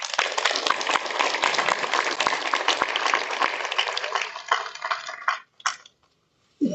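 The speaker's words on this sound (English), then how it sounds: "I think this definitely calls for a big round of applause." An audience at an environmental conference breaks into applause, a dense patter of many hands clapping fairly close, which thins out and dies away to near silence toward the end.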